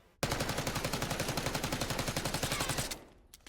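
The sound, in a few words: Jackal gun firing in Black Ops 6 video game firing range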